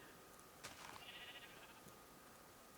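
A sheep in a video game, from a flock kept on a farm, gives a single short bleat that sounds faint and distant over a quiet background.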